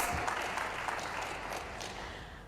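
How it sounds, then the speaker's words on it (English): Rousing audience applause after a lecture on prophetic preaching, a continuous broad wash of clapping at moderate level, steady throughout. "Can we please give another rousing round of applause?"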